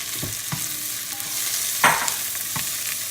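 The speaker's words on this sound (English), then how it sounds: "we're going to get these frying a little bit" Mushrooms and onion sizzle steadily in olive oil in a pan while a utensil stirs and scrapes them a few times, close by.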